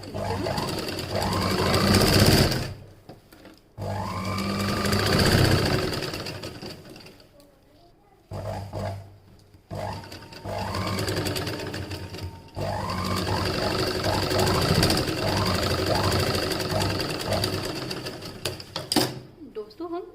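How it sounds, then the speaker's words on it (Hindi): A sewing machine stitches a half-inch folded hem on the back piece of a blouse, running in steady bursts of mechanical whirring with short pauses between runs, while someone talks over it. "हम यहाँ पे आधा इंच नीचे का फोल्ड करके सिल लेते हैं"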